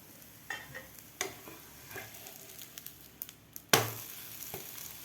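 Sweet corn thalipeeth cooks on a pan with a soft, steady sizzle, broken by a few light scrapes and clinks as it is lifted and flipped, ending in one sharper clatter near the end.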